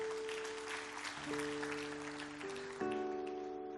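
Faint congregational applause at a church service blends with sustained keyboard chords that enter and shift underneath. The clapping is soft and distant while the held organ-like tones grow more prominent.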